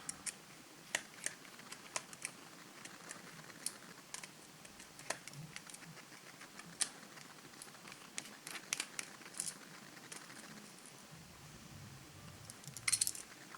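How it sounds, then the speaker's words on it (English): Small T4 Torx screws being unscrewed from a Sony Xperia E1 D2005 phone, heard as faint, scattered ticks and clicks of the screwdriver at close range in a quiet room. "These are all T4 Torx screws. So let's get them out."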